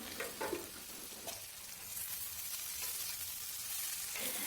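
Fiddlehead fern greens (dhekia xaak) fry in a pan with a continuous soft sizzle and crackle, faint and steady with a few stirring movements.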